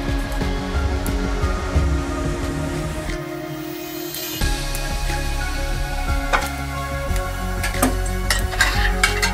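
Oil heats and sizzles in a kadai while ground soyabean is prepared for a crunchy sabji, giving a steady, moderate frying hiss with a few stirring sounds over a low background hum.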